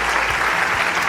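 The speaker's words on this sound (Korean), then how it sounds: "큰 박수 부탁드립니다" A brief, loud wash of audience applause at an awards ceremony during a world YSP general assembly, thick continuous clapping from a large crowd.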